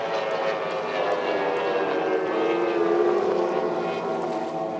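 Outboard racing boats in a 2700-class drag heat at Paynesville, a loud continuous high-revving engine roar that holds steady throughout with slight pitch shifts, no talk.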